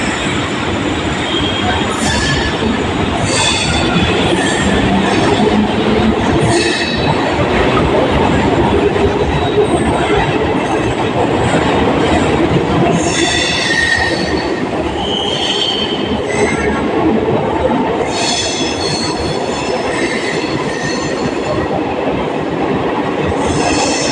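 Chennai MRTS suburban train running past Adambakkam station, a loud continuous rumble of wheels on track with squealing and rattling throughout, heard from on board.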